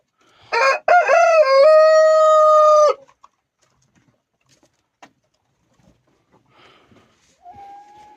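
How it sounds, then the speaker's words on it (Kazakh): A Jersey Giant rooster gives one loud, close crow lasting about two seconds, followed by quieter scattered clucks and small yard noises from the flock. "ұстап отқан порода тауықтарымыз."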